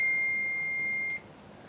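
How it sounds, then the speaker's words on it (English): An electronic device gives one sustained high beep that holds steady for about a second before cutting off, leaving quiet room noise. "turn off that so we don't have 70 million beeps"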